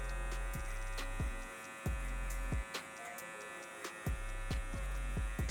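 An electric hair clipper running with no guard and the lever fully closed buzzes close up, cutting in and out in short bursts with a strong low hum and clicks at each start, with no talking.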